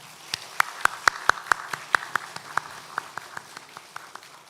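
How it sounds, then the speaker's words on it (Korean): A church congregation claps for the choir after a Sunday Thanksgiving service: a sparse burst of individual hand claps, loud at first, then thinning and fading out over several seconds. "격려의 박수 한번 우리 성가대원들"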